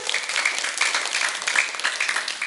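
Applause from a school audience at a live children's storytelling event in Gunungsitoli, a dense, steady patter of many hands clapping close by, with no voices over it.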